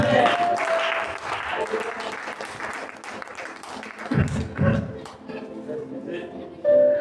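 Congregation at a church service applauding and cheering for Jesus, a dense sustained wash of clapping and voices that swells again near the end, with a preacher's voice and music mixed underneath.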